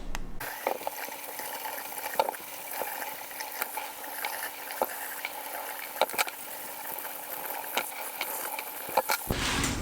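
Freshly picked cucumbers for pickles are washed in water, with a steady splash and swish broken by irregular clunks and knocks as they are handled.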